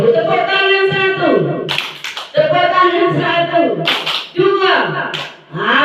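An audience in an Indonesian teacher-training session claps on a spoken count, giving sharp single claps in unison between stretches of a speaker's voice.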